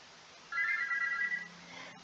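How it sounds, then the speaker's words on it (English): A phone's morning alarm rings in a short, bright electronic trill that lasts about a second, then stops, leaving a quiet room hum; fairly close and clear, with no speech. "The morning alarm almost gives you a heart attack."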